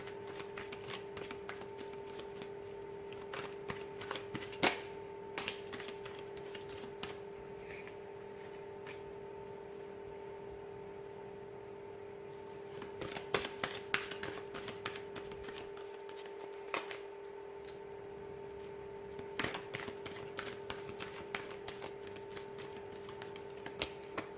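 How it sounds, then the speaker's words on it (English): Tarot cards riffle and shuffle in repeated quick bursts against a steady electrical hum, fairly quiet and close, with brief pauses between shuffles. "I'm going to go ahead and give the cards a shuffle here"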